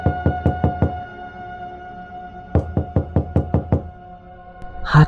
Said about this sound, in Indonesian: Suatu malam ia terbangun oleh suara ketukan di pintu rumahnya. Pelan namun teratur.